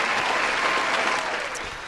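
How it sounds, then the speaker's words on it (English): Podcast hosts clap for Rhonda in the studio: a steady burst of applause from a few people, close and fairly loud for about two seconds, with a faint murmur of voices underneath. "Clap it up for Rhonda in the building"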